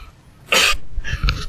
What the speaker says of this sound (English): I want to not cough through this stream.